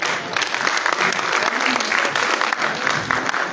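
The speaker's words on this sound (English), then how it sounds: "Please give the hand of applause to the young psychiatrist" Audience applause for a young psychiatrist at a government cabinet retreat, dense steady clapping throughout with voices murmuring underneath.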